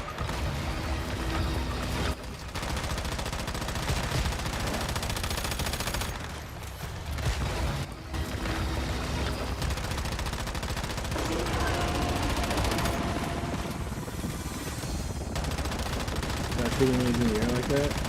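Rapid gunfire from a shooting video game, with dense bursts of automatic shots and volleys running nearly nonstop, loud and close, broken by a few brief pauses.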